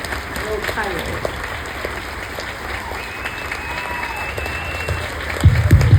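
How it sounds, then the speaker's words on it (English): Audience applause for a guest presenter at the Renew 2025 event, a steady wash of clapping throughout with a few voices murmuring underneath and a louder burst near the end. "Let's give her a big hand of applause"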